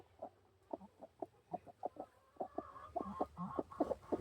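A hen being lifted from her nest, clucking in a rapid series of close, distinct bursts that grow denser and more agitated toward the end, with no talking.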